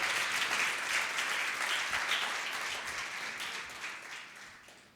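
A church congregation breaks into sustained applause during a sermon, a dense wash of clapping that holds steady and slowly tapers toward the end, with no talk over it.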